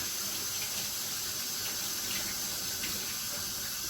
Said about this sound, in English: So I'm going to wash some of these carrots.